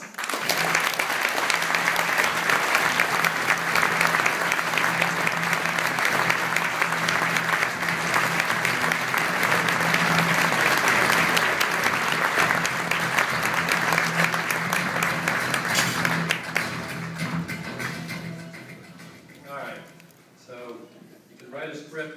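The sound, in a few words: audience applause at an award ceremony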